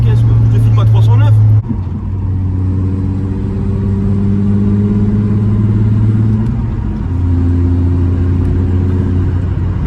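Volkswagen Golf 2 VR6 Final Edition heard from inside while driving, a loud, deep, steady engine drone that drops in pitch after a shift, with people talking over it.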